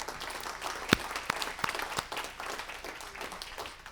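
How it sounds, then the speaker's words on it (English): A small group at a city council meeting applauds, fairly quiet scattered clapping with a few sharp distinct claps over a low room murmur. "give him a round of applause"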